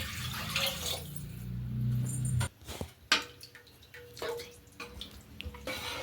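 About two glasses of water poured into a cooking pot for Andhra-style tomato rice, a close gushing pour lasting a couple of seconds, followed by quieter clinks and drips.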